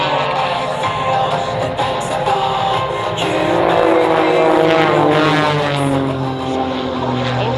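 Propeller aircraft fly formation aerobatics at the Australian International Airshow, their engines droning loudly and continuously as a rising and falling buzz that sweeps in pitch as the planes pass overhead.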